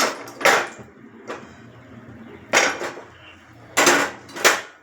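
A lid is lifted off a dosa pan greased with ghee, giving several sharp metallic clanks and scrapes spaced a second or so apart, close and fairly loud with little else around.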